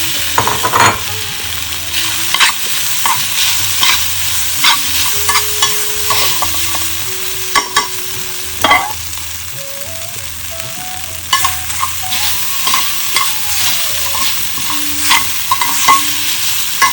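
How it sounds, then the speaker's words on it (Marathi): Kashmiri red chili and a sabudana mixture frying in ghee, a loud continuous sizzle with repeated spoon stirring scrapes and clinks against the pan. "थोडी काश्मीरी लाल मिरची जे तुपावरच परतते आणि त्याच्यामध्ये हे साबुदाण्याचं मिश्रण"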